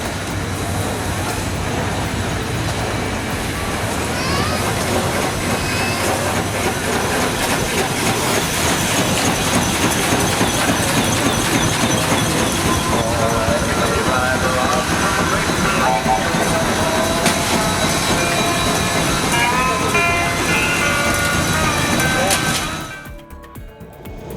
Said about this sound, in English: 3 stationary steam engines, each driven straight from their boilers